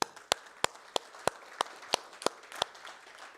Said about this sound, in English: May I have a huge round of applause for all of us.